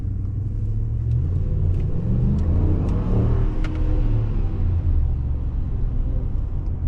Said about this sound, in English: Decent exhaust note.